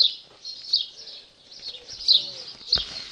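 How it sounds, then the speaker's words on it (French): Birds chirp and call in short bursts against a quiet background, with occasional louder tweets and a faint low coo. "désolée pour ceux que le bruit des oiseaux dérangerait"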